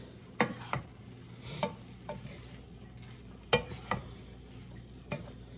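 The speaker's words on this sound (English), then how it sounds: "I'm just going to stir up the rice." Riced vegetables with zucchini are stirred in a skillet, making several separate scraping, sizzling strokes at an irregular rhythm over a faint steady frying hiss, with no talking.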